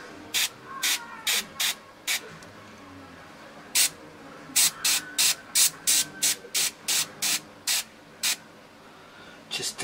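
Airbrush spraying paint highlights onto an Ultramarine miniature, heard as a close series of short, sharp hissing bursts in quick irregular succession, with a brief pause midway.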